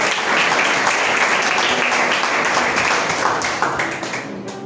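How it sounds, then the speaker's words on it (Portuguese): A church congregation applauds during a worship service, many hands clapping together in a loud, full burst that holds steady, then thins and tapers off toward the end. "Aplaude aos céus pela vida do céu dele"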